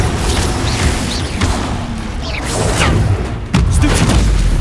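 Confringo blasting spells from Hogwarts Legacy go off as loud booming explosions, several heavy blasts and crashes in quick succession filling the clip.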